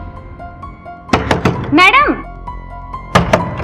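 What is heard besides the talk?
knocking on a door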